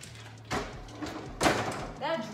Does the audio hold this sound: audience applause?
no